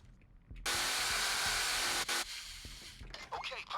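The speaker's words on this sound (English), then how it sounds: "Let's try to have the drill do its thing without others coming near it." A vault drill starting up in the video game Payday 2, a loud, steady high-pitched whirring grind that runs for about a second and a half, cuts briefly, then trails off amid game sounds and rhythmic background music.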